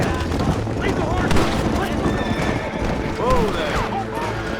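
A horse whinnies a couple of times in the Red Dead Redemption western game, rising squeals cutting through a busy mix of hooves, rumbling effects and a voice talking over it.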